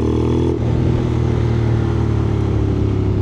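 A Honda X-ADV 750 scooter fitted with a LeoVince LV Pro exhaust accelerating in sports mode, a loud steady engine roar that rises slightly as the throttle opens, heard up close while riding.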